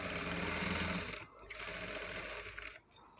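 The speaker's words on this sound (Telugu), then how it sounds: "మనం దీని నుండి ఇలా స్ట్రెయిట్గా స్టిచ్ చేసేసుకుంటూ వచ్చేస్తే మనకు ఈ బ్యాక్ పార్ట్ అనేది కంప్లీట్ అయిపోతుంది." A sewing machine runs steadily while stitching the back part of a work blouse in one continuous straight seam, then pauses briefly and starts up again near the end; no talking.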